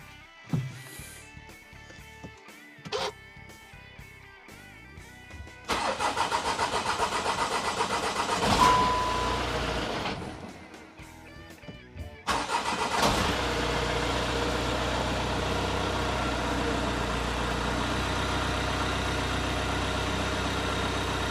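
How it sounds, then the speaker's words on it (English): A VW Golf GTD with a 1.9 TDI diesel engine cranks and fires up after a cambelt service, then settles into a steady, close diesel idle that clatters evenly with no voices over it. "push the clutch down, start her up"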